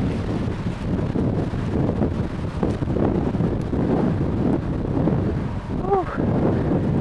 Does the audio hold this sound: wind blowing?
yes